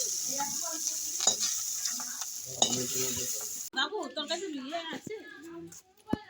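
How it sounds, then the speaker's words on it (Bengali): Fried prawns are lifted out of sizzling oil in a pan: a steady hiss of frying runs under a spoon scraping and stirring, while a voice talks over the second half. "এই দেখুন বন্ধুরা, চিংড়ি মাছ ভাজা হয়ে গেছে,"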